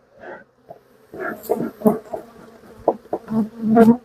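Bees buzz in irregular bursts close to the microphone, rising and falling in loudness with short pauses between.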